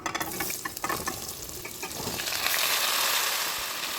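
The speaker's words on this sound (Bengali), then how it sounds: "ফোড়নটাকে একটু ভেজে নিতে হবে এখন দিয়ে দেব কেটে রাখা ঝিঙেগুলো" Chopped ridge gourd added to oil spiced with dried red chillies and nigella seeds, a few sharp clatters and stirring scrapes at first, then a steady swelling sizzle of frying, close and without speech.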